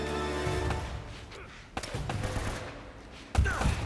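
Gunfire in the video game Uncharted, a few sharp shots and thuds punctuating a short stretch of game noise, with a loud impact near the end.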